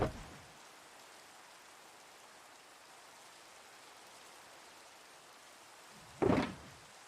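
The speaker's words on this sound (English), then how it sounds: "Ah, yes, the rain. The rain has returned." Rain falls as a steady, soft, even hiss throughout, with a brief thump near the start and another louder knock near the end.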